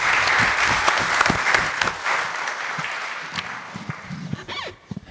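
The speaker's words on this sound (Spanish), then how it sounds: "Un aplauso, por favor." Audience at a seminar on juvenile justice in Concepción gives a burst of applause, a dense crowd of clapping hands that rings loudly and then gradually thins out toward the end, with a few scattered voices.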